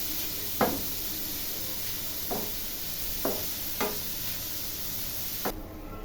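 Carrot for carrot halwa frying in a pan while being stirred, a steady low sizzle under several sharp scrapes and knocks of the spoon against the pan at irregular intervals, close by, with no talking.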